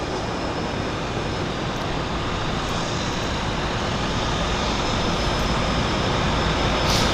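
Floatplanes at Vancouver Harbour Airport roar during a double takeoff, a loud steady engine drone filling the whole stretch with no talk.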